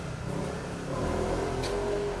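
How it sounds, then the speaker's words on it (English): A moped drives past on the street, its small engine rising to a steady buzzing drone about halfway through, moderately loud against outdoor background noise. "What's that moped?"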